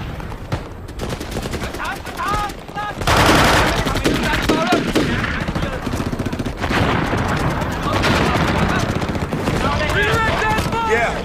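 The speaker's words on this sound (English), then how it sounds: "Yeah, there's sustained mortar and small arms fire." Heavy sustained gunfire from a war film set in Vietnam, with dense bursts of small arms and machine-gun fire and mortar blasts rolling on without pause, loud and close, with shouted voices caught in the chaos.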